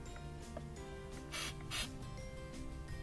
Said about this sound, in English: Spray it a little more.